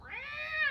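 A neighbor's cat gives a single drawn-out meow, rising and falling in a clear harmonic wail, fairly close and alone with no talk.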